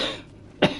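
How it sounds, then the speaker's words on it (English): A single short cough bursts out near the end, loud and brief against quiet game ambience, with no talk over it. "Yet more coughing."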